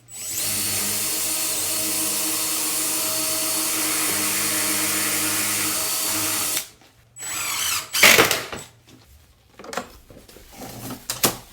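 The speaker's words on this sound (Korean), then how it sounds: "나사못으로 고정을 합니다" A power drill drives screws into the back of a wooden side panel on a corner shelf, whirring loud and steady for several seconds, then stopping and giving a few short bursts and knocks.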